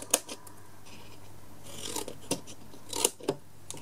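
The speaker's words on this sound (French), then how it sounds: "Donc on coupe comme ceci, voilà, on coupe en biais" Scissors cut a small wing at an angle: a few crisp, close snips and light rasps separated by short quiet gaps.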